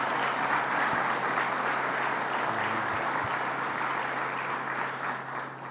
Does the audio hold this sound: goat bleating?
no